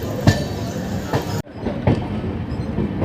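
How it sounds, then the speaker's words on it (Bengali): Train noise from the LHB-coach Kanchanjunga Express leaving platform 13 at Sealdah station in the morning: steady broadband rumble with a couple of sharp clacks, then an abrupt drop to a quieter rolling sound. "সুন্দর একটা ট্রেনের ডিপার্চার তো বন্ধুরা তেরো হাজার একশো তিয়াত্তর শিয়ালদা থেকে সাবলম কাঞ্চনজঙ্ঘা এক্সপ্রেস"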